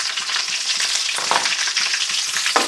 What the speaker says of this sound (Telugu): ఆనియన్స్ గోల్డెన్ కలర్లో వచ్చేలాగా బాగా ఇలా అటు ఇటు తిప్పుతూ దూరగా వేపుకోవాలి